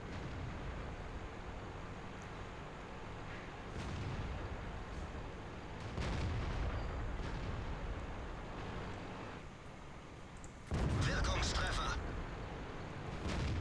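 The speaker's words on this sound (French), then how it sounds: "Oh, premier tir avec le Tiger 2." Heavy cannon shots from a Tiger II heavy tank in World of Tanks boom at intervals over a constant rumbling engine drone, with one sharper, louder blast near the end; no speech.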